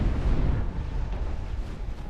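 Warship guns firing in a Shipyard Champions naval battle, a dense continuous rumble of booming cannon fire with heavy low-end, steady and loud throughout, no voices.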